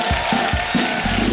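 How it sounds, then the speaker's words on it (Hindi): A studio audience on a comedy show gives dense, continuous applause for actor Shakti Kapoor, a loud wash of clapping with a few heavier thumps throughout the short burst. "शक्ति साहब के लिए एक बार जोरदार तालियां हो जाए।"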